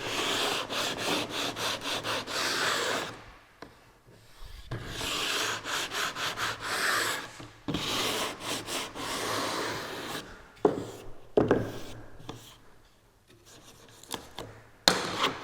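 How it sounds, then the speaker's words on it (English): A hand block sander softens the edge of an edgebanded cabinet panel in repeated close rasping strokes, coming in rhythmic bursts separated by short pauses. "And then take a handy dandy block sander."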